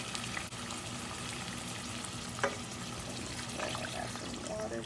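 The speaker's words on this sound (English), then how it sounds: "After you add your tomato paste, you want to go ahead and add some water." Water poured into a pan of frying tomato paste and garlic, a steady sizzling hiss running throughout with a brief splash and a few clinks, close and moderately loud.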